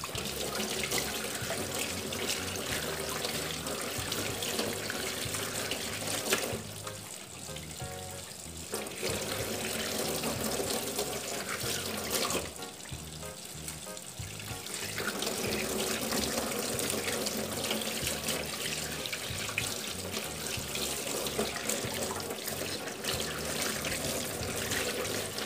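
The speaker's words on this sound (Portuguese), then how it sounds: "Lavar na água corrente." Tap water runs into a kitchen sink while food is washed for homemade hot dogs, a fairly quiet, continuous splashing stream with two short dips where the flow is interrupted.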